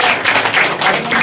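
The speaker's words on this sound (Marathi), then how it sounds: "त्याच्या सगळ्यांनी जोरात टाळ्या वाजवून" Brief, loud clapping from a gathering at a school event in Pandharpur honouring a student's rank, with quick dense claps pulsing for just over a second.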